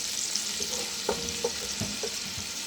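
Onion sautés in oil in a pan, giving a soft steady sizzle broken by a few distinct stirring clinks and scrapes close by, with no talking.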